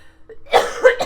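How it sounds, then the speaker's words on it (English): A single short, close cough bursts out after a faint breathy lead-in, harsh and abrupt, with a second smaller hack trailing right after. "I really apologize for all the coughing"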